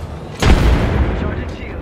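One heavy gunshot booms in the Apex Legends video game, then a rumbling tail fades over the next second and a half.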